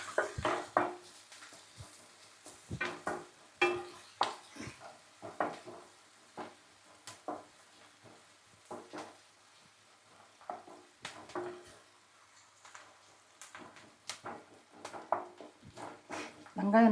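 Onions and chopped garlic cloves frying in a pan for tomato thokku, with intermittent stirring scrapes and clinks over a soft sizzle, while someone talks throughout.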